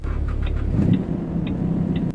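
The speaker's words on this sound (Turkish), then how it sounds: "Aracı çalıştırıyoruz." A modded Ferrari engine in Euro Truck Simulator 2 fires up and settles into a steady, deep, loud rumble that swells briefly, with faint higher clicks over it and no talking.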